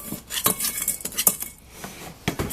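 A spoon scrapes and clinks against a bowl while a child stirs a pretend cake of dirt and pebbles outdoors, quick uneven gritty clatters close by with no talking.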